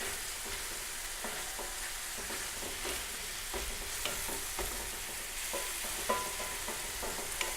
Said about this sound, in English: You want to actually sear the pork.